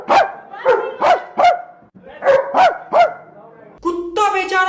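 A man imitates a dog with a string of loud, close barks in two bursts of three, followed by a brief whine-like vocal at a cricket match between India and Pakistan.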